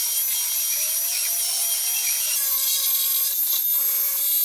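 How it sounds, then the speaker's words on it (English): Steady, continuous abrasive whine of a belt sander removing glue from wood, loud and close, with a constant high-pitched hum that shifts slightly partway through. "I'm gonna get most of this glue off of here with the belt sander"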